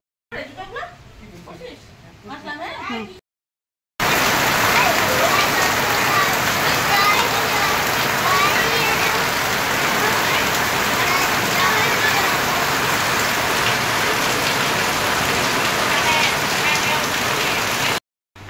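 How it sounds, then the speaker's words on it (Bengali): Sudden heavy rain pours down outside, a loud, dense, steady roar that begins abruptly after a few seconds of quiet voices and continues unbroken to the end. "আচমকা এমন বৃষ্টি আসলো"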